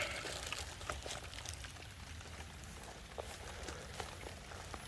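Steady rain patters across an orchard of fruit trees, a fine hiss with scattered drip ticks close by, holding even throughout with no voices.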